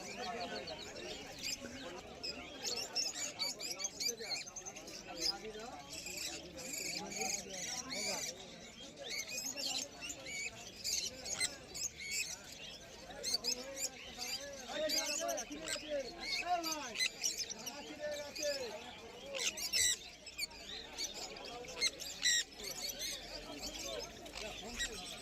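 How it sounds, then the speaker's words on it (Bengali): Cockatiels and lovebirds call at a busy outdoor bird market, with dense overlapping chirps and squawks running throughout, while a voice speaks over the din and other market noise sits close by. "এখানে প্রচুর পরিমাণে কোকাটেলও আছে।"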